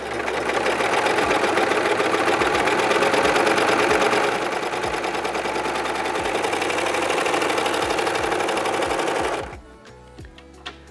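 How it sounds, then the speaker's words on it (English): A serger running 4-thread overlock stitching sews elastic onto Lycra-type fabric, a fast steady whirring chatter close up for about nine seconds before it stops abruptly, leaving quiet handling noise. "we've just serged the elastic to the top of this Lycra type fabric"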